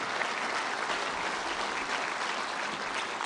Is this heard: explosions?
no